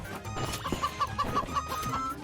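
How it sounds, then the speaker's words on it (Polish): Clucking chicken in the Moving Out video game, a string of short repeated clucks at a steady rhythm over busy game sounds and music. "Kura mnie goni!"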